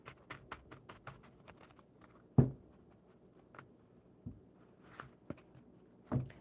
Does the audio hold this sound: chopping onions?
no